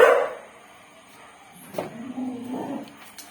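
A few dogs bark in short bursts, one sharp yelp at the start, then more barking and yipping a bit farther off, with no talking.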